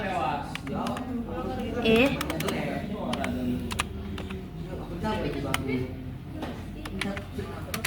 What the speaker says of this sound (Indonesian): di bagian sini kita ketik ping